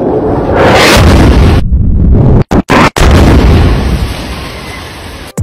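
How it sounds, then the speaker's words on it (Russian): Israeli F-16-dropped Spice-2000 guided bomb exploding on a building: a massive loud roaring blast rumble with brief cut-outs, then a long fading rumble, no talk. "На видео показан удар такой бомбы по зданию"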